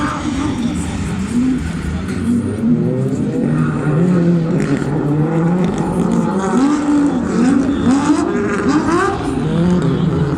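Rally cars race past on a Rally de Wallonie 2021 stage, engines revving and shifting loudly and continuously, two cars running close together with rising and falling pitch as they pass.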